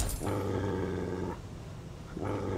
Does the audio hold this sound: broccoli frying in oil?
no